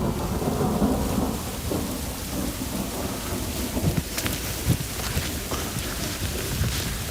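Steady rain falls in a stone-built mountain village in Greece, a dense continuous patter on surfaces with low thunder rumbling through, loud and close throughout.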